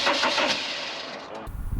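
A car engine cranks with a fast, harsh whirring from the starter motor that stops abruptly, followed by a low rumbling stumble as the engine briefly tries to catch and fails to start.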